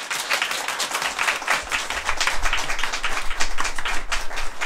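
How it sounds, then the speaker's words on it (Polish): An audience at the final of a Polish literary competition applauds after a recital. Many hands clap in a dense, steady patter that builds slightly and carries on throughout, with no talking. "w tej chwili bardzo Was proszę o wielkie, wielkie brawa za ich pracę"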